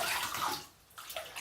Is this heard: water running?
yes